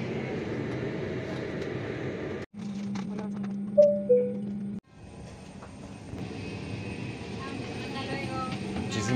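Cabin noise aboard an Aeroméxico airliner about ten minutes before landing in Mexico City, a steady low engine and airflow drone with a cabin chime partway through and people talking nearby.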